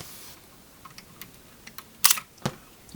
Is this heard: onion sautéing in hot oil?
no